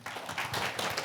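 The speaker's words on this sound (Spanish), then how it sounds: "Démosle un fuerte aplauso a Silvio." Brief burst of audience applause at a Spanish-language faith podcast testimony, a moderate crowd clapping steadily for about a second with no one speaking over it.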